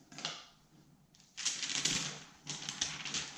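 Protective film peeled off a glass shower door in crackly, ripping bursts, a short tear then two longer stretches of close, crisp crinkling separated by brief pauses.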